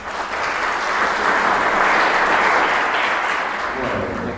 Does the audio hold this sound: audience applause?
yes